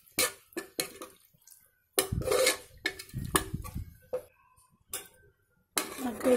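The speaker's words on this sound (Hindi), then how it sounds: "और इसे भी हम चम्मच से चला लेंगे।" A spoon stirs boiled chickpeas in a metal pot while making chole, giving a run of clinking, scraping clatters in uneven bursts, close and moderately loud, with short quiet gaps between strokes.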